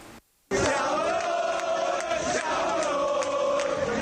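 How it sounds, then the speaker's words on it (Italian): AC Milan supporters celebrate their 19th league title in the squares of Bassano, a dense, loud crowd roar with shouting and cheering that swells in after a brief gap and holds steady, with sharp whistles and horns cutting through. "un'onda di entusiasmo ha letteralmente invaso le piazze di Bassano per i festeggiamenti del 19° scudetto del Milan"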